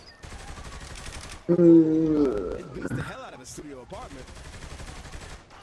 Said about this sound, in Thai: ยิงทั้งหมดเลย เจอหน้าไหนไม่ต้องเว้น ยิงแม่งหมด